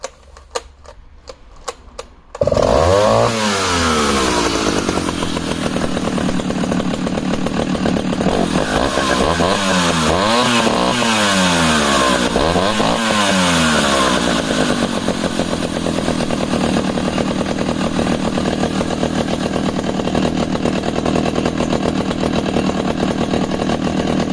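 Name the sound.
vintage chainsaw engine running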